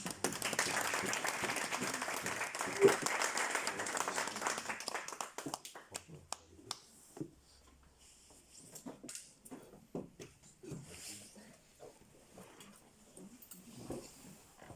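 A church congregation breaks into loud, sustained applause, many hands clapping together for about five seconds before it thins to scattered claps and quiet shuffling.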